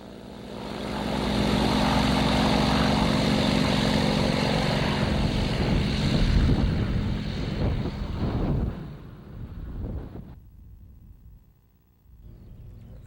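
Yak-52 propeller aerobatic aircraft droning loudly with heavy wind buffeting, a sustained engine roar that fades and thins out near the end.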